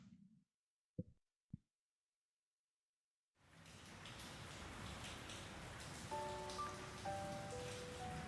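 Steady rain ambience in the video game Cafe Enchante, with a soft broadband hiss of falling rain that fades in after a few quiet seconds and short blips, then continues evenly under faint tonal game music.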